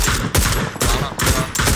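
Gunfire rattles through a battle royale shooter game as three or four loud bursts of rapid automatic shots, separated by brief gaps and heard close up.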